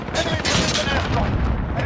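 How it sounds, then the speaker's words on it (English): Enemy precision airstrike explosions erupt during a Hardpoint match on the Shipment map in Modern Warfare, with loud, dense blasts and gunfire layered under brief in-game voice callouts. "Enemy precision airstrike."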